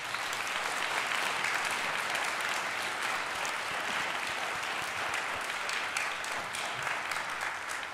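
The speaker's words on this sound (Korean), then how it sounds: "감사의 뜻으로 큰 박수 한번더 부탁드립니다" Concert audience applause at a year-end performance of Saint-Saëns' Carnival of the Animals by an ensemble, a continuous, even wash of many hands clapping throughout.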